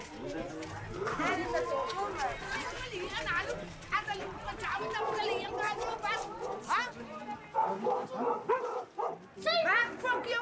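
A dog barks repeatedly at an elderly woman's house occupied by gang members, with a string of sharp barks mixed in with constant talking and chatter from several people nearby.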